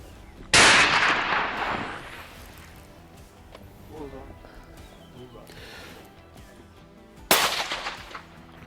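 Rifle shots fired while sighting in at a target on a hunting safari, two loud, sharp cracks several seconds apart with reverberating tails, and voices talking faintly in between.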